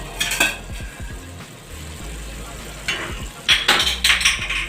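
Coriander powder, red chili, turmeric and oil fry in a pot for bhindi mutton stew, with a sizzle under clanking spoon-and-pot scrapes, close and fairly loud, bursts of clatter near the start and end.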